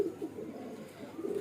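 A fancy pet pigeon coos softly close by, giving a few low, rounded coos against a quiet background.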